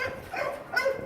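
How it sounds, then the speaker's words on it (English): A dog at a dog-friendly site makes a short, faint whimpering yip in the background, two quick rises in under a second. "the site is dog friendly, which accounts for the background noise."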